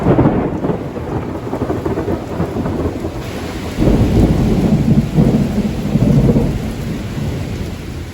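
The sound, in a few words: summer afternoon thunderstorm with pouring rain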